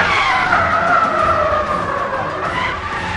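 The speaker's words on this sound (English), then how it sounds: "This is all the logic that goes into just playing this tire skid sounds." Tires skid and squeal continuously for a few seconds in the racing game Need for Speed: The Run, loud and close, a smeared screeching tone over engine rumble.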